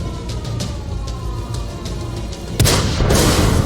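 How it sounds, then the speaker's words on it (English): A tank's main gun fires in World of Tanks, a sudden loud boom about two-thirds through that follows a quieter stretch of game noise and engine rumble. "Well, that's the last shot I think I'm firing."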